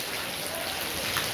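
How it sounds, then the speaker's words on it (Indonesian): Steady rain falls in a continuous broadband hiss of drops on surfaces, an even wash of sound with faint voices barely present underneath. "Hujan nih, hujan."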